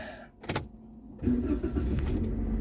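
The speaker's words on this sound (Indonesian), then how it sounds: "Oke, sekarang kita nyalakan mesinnya dulu" A 2015 Toyota Avanza 1.3 G with manual transmission starts up: a short cranking burst, a pause, then the engine catches and settles into a steady, close idle.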